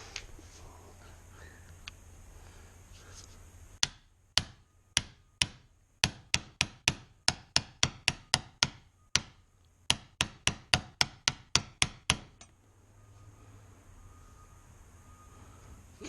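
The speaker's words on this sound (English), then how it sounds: "We'll grab the baby hammer." Small hammer tapping on a Jaguar MKII engine during a rebuild, about two dozen crisp metallic strikes in quick irregular bursts, close and fairly loud over a faint background hum, with no talking.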